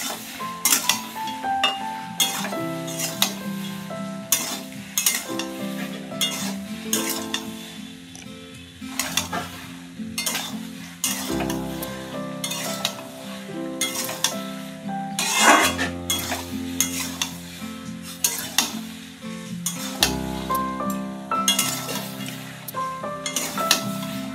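Taro and shrimp curry being sautéed in a pan, with steady sizzling and frying broken by repeated sharp clinks and scrapes of a utensil against the metal, close and busy throughout.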